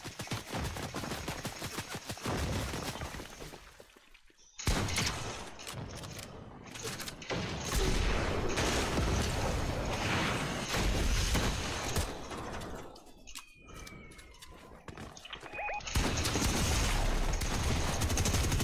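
Bursts of gunfire from a Fortnite match crackle through the whole stretch, with dense rapid volleys, a short lull near the start and mechanical clicks between. The shots are loud and continuous, with no talk over them.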